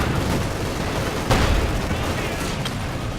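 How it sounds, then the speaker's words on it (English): Puma armoured car firing in a Company of Heroes 2 battle, with sharp cannon reports among dense background combat noise and a couple of distinct louder shots. "Puma here firing as well."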